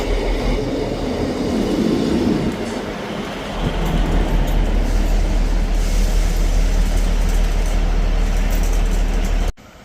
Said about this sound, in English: Arriving in now is the delayed 1449 ScotRail service from Perth to Edinburgh Waverley.